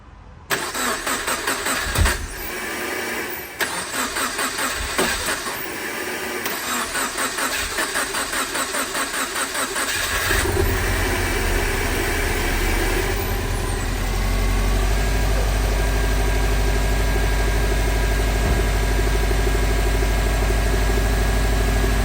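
A car engine cranks in repeated stuttering bursts after a head gasket repair, then catches around the ten-second mark and settles into a steady, loud idle with a deep rumble that continues alone to the end.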